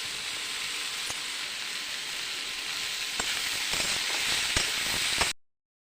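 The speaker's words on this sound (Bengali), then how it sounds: "আমার উচ্ছে আর আলুটা ভাজা হয়ে গেছে প্রায়" Bitter gourd and potato frying in a pan give a steady, bright sizzle that runs continuously, with a few sharp clicks of stirring near the end before it cuts off abruptly.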